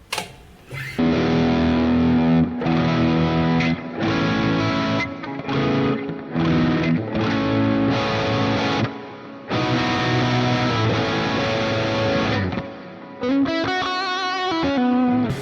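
Heavily distorted electric guitar on the bridge pickup chugging chords with short pauses between phrases, ending with a brighter ringing figure.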